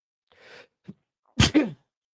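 A sharp sneeze bursts out after a short breathy intake, a quick two-part explosive sound, close and fairly loud.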